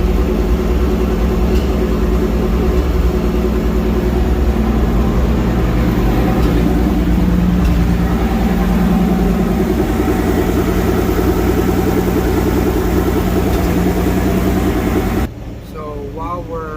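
1954 GMC COE truck engine running steadily after a cold start in 30-degree weather, a constant low rumble that cuts off abruptly near the end.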